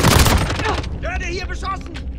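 Rapid gunfire bursts in Call of Duty Modern Warfare multiplayer on a bazaar map, a dense close volley at the start that fades into scattered pops while a voice shouts in German.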